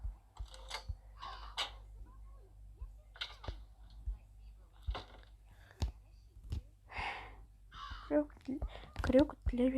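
Crows caw repeatedly in the video game Metel (Blizzard), loud, harsh calls in uneven bursts across the clip, with a faint low hum underneath.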